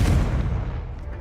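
A Confringo spell blast in Hogwarts Legacy, a single heavy, close, booming fiery explosion that hits hard at once and then rumbles away over about a second, with no talk.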